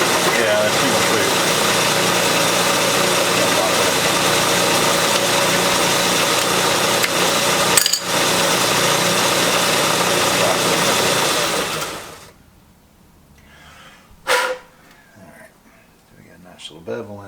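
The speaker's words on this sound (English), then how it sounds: "I'm going to stick this back in a small lathe, and I'll put that countersink in there and clean that up a little bit." Small lathe turning and countersinking a Lewmar windlass part: a steady, loud motor whine with mechanical hum for about twelve seconds, then the machine stops, leaving quiet with a few brief knocks.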